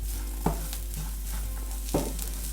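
Ground masala paste for crab curry fries in a hot pan with a steady, loud sizzle, and two sharp scraping stirs stand out above it.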